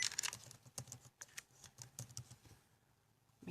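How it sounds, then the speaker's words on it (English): Quiet computer keyboard typing, a run of light irregular key clicks and taps, close but soft, with no one talking. "type that into the comments"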